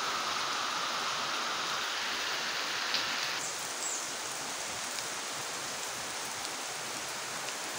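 Steady, dense hiss of heavy rain falling close by, constant throughout with no voices.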